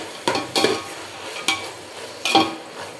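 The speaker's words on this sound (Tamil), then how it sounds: "இப்போ வந்து இது வந்து இஞ்சி பூண்டு வந்து வதங்கட்டும்." Ginger garlic paste sautéing in a pan for veg biryani: a soft ongoing sizzle broken by four sharp scraping stirs of a spoon against the metal, close and fairly loud, no talk.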